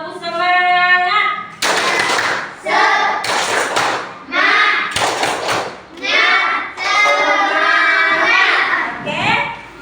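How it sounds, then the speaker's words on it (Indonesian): Schoolchildren in a classroom performing the tepuk semangat chant, rhythmic bursts of clapping and thumps interleaved with loud chanted voices in repeated phrases, preceded by a teacher's voice. "Tepuk semangat."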